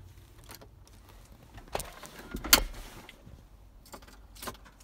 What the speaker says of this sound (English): start off by putting the key in the ignition